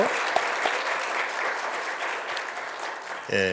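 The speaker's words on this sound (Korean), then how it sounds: "우리 박수 한번 크게 치겠습니다" A church congregation at a revival meeting in Mokpo claps in loud, dense applause that holds steady, then fades as a voice begins at the end.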